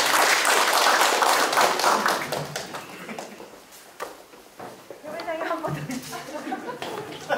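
A meeting hall audience at a neighborhood leaders' training workshop claps, a burst of hand claps that thins out, with chatter and voices continuing underneath.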